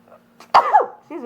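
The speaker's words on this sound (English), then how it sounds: "I have to sneeze." A single close, loud sneeze from a woman, a sharp burst with a short trailing voiced tail, then a brief voiced sound after a pause.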